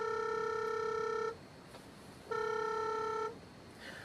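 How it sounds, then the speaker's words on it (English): A mobile phone rings during an online thesis presentation with Q&A, giving two long bursts of bright layered electronic tone separated by about a second of quiet, fairly close and with no talk over it. "My phone refused to stop the rings."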